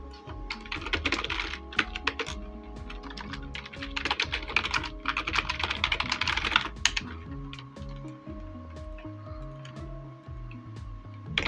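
Keys clatter on a computer keyboard in steady bursts of fast typing with short pauses, close and fairly quiet, while faint tonal music plays underneath and no one speaks.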